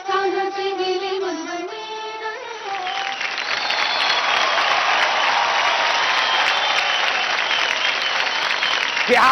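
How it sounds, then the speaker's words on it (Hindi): Audience applause after a dance performance on a televised dance contest stage, a sustained dense burst of clapping that swells and holds loud until the end, following a stretch of music at the start. "एक बार जोरदार तालियां हो जाए हमारी सुपर मॉम के लिए।"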